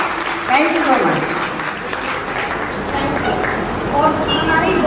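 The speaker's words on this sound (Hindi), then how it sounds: "उनके लिए सब जरा जोर से तालियां बजा दें, कंजूसी ना करें।" Audience applause after a dance performance at an Indian cultural celebration, steady clapping sustained throughout at moderate loudness, with voices underneath.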